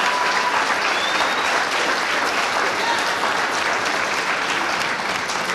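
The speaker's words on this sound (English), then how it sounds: "So they deserve a big round of applause for that" A loud, dense burst of applause from a concert crowd for a middle school chorus at a spring concert, sustained and full for several seconds.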